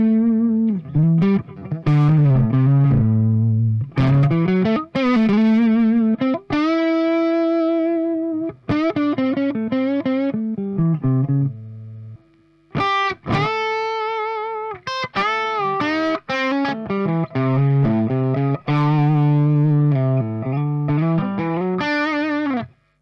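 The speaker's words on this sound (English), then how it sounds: "I've plugged in my Epiphone Les Paul into the White Marshall and into the Ampeg 4x12" An Epiphone Les Paul through a white-tolex Marshall Plexi tube amp and an Ampeg 4x12 cabinet plays loud, crunchy distorted riffs and chords, with short pauses between phrases.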